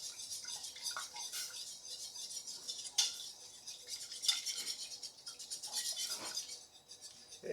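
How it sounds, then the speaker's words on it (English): Cream and milk being whisked into a roux for baked mac and cheese, a wet swishing and rhythmic metal whisk clinking against a pot, fairly close and continuous. "Just whisk that up until the roux disappears."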